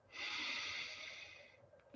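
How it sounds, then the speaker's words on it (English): A single deep inhalation through the nose in a quiet room, a steady airy rush lasting over a second before it tapers off, close and soft, with no talking. "start off by taking a nice deep breath in through the nose"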